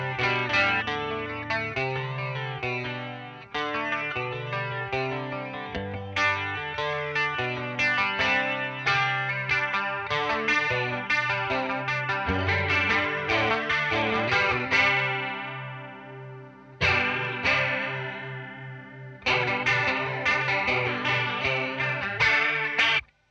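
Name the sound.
guitar through Boss CE-1 chorus pedal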